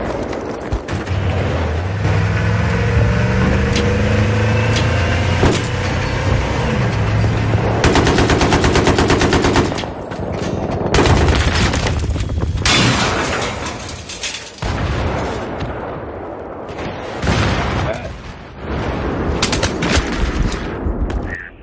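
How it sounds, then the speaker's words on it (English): Sustained automatic gunfire in the Battlefield 3 map Damavand Peak in Conquest mode, with loud bursts and repeated fast volleys running nearly nonstop, broken by brief pauses and a few single heavy shots. "Shooting this dude right in his face."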